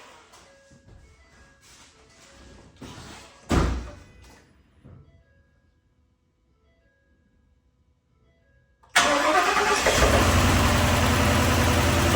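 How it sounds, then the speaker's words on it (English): A Ford F250 Super Duty with a newly installed engine falls quiet after some faint clatter and a knock, then fires up abruptly and settles into a loud, steady idle close by. "let's see if she'll start up"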